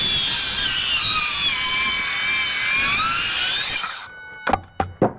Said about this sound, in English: So then right here, I want to saw that off.